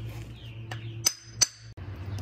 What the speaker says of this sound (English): Let me pull out the hammer.